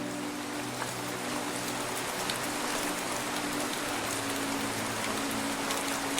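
Continuous rain falling at night, an even, close rushing hiss with scattered drop patter and a low rumble underneath, steady and unbroken with no voices.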